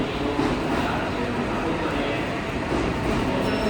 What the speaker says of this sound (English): The Tohoku Shinkansen Hayabusa, with its sleek green body, is a refreshing sight.